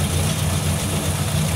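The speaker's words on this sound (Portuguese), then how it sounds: "Gente, mas eu tô impressionado com o barulho desse motor. Olha aqui. Bate nada." Old Ford Belina 4x4 engine idling after years abandoned, a steady, close low-pitched hum with even pulses and no knocking, running alone without talk.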